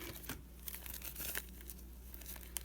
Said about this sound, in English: cut it a little bit bigger than my bowl